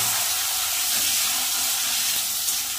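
Boiled soybean chunks go into a hot pan with potatoes, setting off a broad, even hiss of steam and frying that holds steady without letup for the length of the clip.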